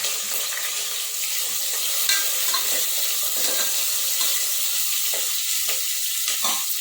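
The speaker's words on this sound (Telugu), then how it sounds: "ఆయిల్ అయితే ఇదైంది. ఇక మనం పచ్చిమిర్చి ఉల్లిగడ్డ వేసుకుందాం." Green chillies and onion sizzle and crackle as they fry in hot oil, with occasional stirring scrapes. The frying is close and steady throughout and no one speaks.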